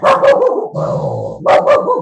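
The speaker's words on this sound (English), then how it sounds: "That'll be my dog." A dog barks at passers-by, loud and close: two quick barks, a throaty growl, then two more sharp barks.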